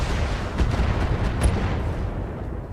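A stray shot striking a javelin mech in a mech combat video game, a dense booming burst of gunfire-like impact noise, loud and rumbling, fading out after a couple of seconds.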